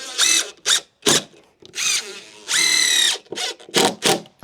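Power drill driving screws into timber decking joists, several short loud whirring bursts in an uneven rhythm, one longer steady run in the middle, close and alone.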